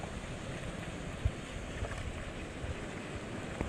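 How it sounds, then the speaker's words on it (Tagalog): Steady, strong wind roars across the microphone with a low rumbling wash of surf beneath it, constant throughout with a few soft thumps. "Malakas pa rin ang hangin."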